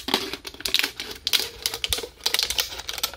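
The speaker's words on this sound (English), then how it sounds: "And then you simply just cut off the top here." A knife saws through the top of a plastic water bottle, producing rapid crackling clicks and crunches in uneven close-up bursts with no voices.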